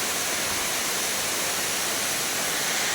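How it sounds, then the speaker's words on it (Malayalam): A waterfall, the second of two cascading over rocks, roars with a steady, loud, dense rush of water from start to finish, with no voices. "നമ്മൾ രണ്ടാമത്തെ ആ വെള്ളച്ചാട്ടത്തിലേക്ക് വന്ന് രണ്ട് വെള്ളച്ചാട്ടങ്ങളുണ്ട്"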